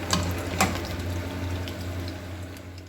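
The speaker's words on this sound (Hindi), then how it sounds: "तो ये मैं समोसे फ्राई कर रही हूँ।" Homemade samosas sizzle in hot oil, a steady close crackling fry with a few sharper pops near the start.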